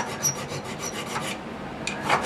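A hand file rasps steadily across a metal engraving hand-piece barrel in repeated close strokes, a gritty scraping rhythm with no voices.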